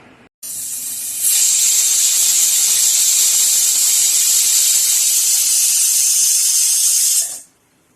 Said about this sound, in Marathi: छोट्या कुकरमध्ये एक शिट्टी देऊन